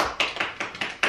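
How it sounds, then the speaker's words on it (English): A few friends clap in a small room, about six sharp, evenly spaced claps in quick succession, close and fairly loud, with no talk over them. "Can I get an applause over here?"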